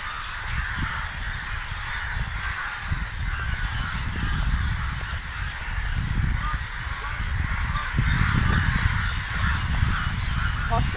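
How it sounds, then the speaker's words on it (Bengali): Many birds, mostly crows, cawing all together at a muddy riverbank in the evening, forming a dense, continuous chorus with faint wind and other noise underneath. "আর বহুত পাখি ডাকছে গাইস।"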